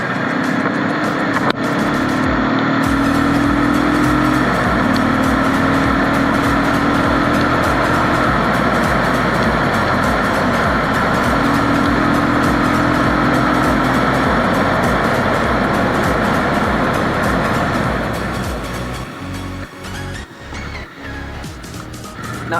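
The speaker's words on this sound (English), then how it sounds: "while I was coming down the road, when I applied the brakes, I was constantly pumping the brakes instead of applying them all at once" A motorcycle rides down a road as the rider repeatedly pumps the brakes, a loud continuous engine and tire roar with wavering tones that drops away near the end.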